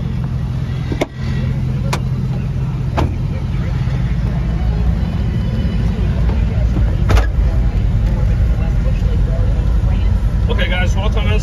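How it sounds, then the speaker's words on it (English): A 2005 Hummer H2 on the road: a steady, close low rumble of engine and tyres holds for the whole stretch, with a few sharp clicks and faint voices underneath. "We'll take you on a short spin and show you how the vehicle drives."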